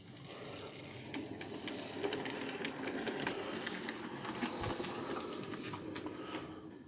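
A model railway train rolls under a bridge on a layout and couples onto its waiting carriages, a soft continuous rumble and clatter with faint mechanical ticks, fairly quiet and without speech.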